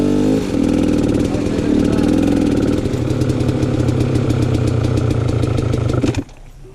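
An enduro motorcycle engine runs near and loud at a steady idle with slight throttle swells while the rider holds the clutch in the friction zone. It cuts off abruptly near the end.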